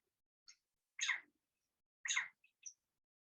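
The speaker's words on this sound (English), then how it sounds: "the birds, being very happy about this development" Birds chirp in a quiet setting: a few sparse, faint high tweets and two louder buzzy calls about a second apart, isolated against near silence.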